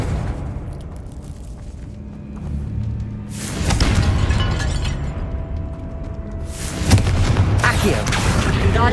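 Confringo blasting spells in Hogwarts Legacy go off as two loud explosive bursts, one mid-way and one near the end, each with a sharp onset and a rumbling, shattering decay.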